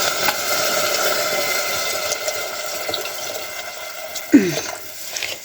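Water is poured into a pressure cooker holding washed, cut vegetables, a close splashing trickle that runs steadily and ends in a brief louder splash.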